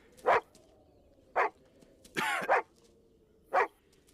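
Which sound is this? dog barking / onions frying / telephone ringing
dog barking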